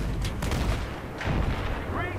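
Tank cannon fire in Battlefield 3 sends out heavy, rumbling booms that blur into a dense, continuous roar of battle over a few seconds, with a voice talking over it.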